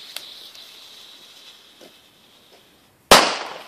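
A German D-class firecracker (Böller) goes off near the end with one sharp, loud blast and a ringing decay, after a stretch of faint hissing and distant pops.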